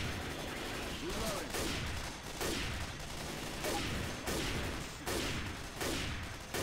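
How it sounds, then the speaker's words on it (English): A burst-fire gun shoots in Left 4 Dead 2, letting off repeated short volleys in a steady rhythm that continue throughout at moderate loudness, over a dense background of game sounds. "Oh, this thing's burst fire."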